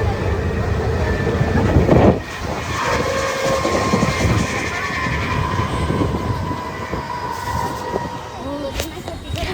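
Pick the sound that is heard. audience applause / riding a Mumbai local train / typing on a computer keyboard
riding a Mumbai local train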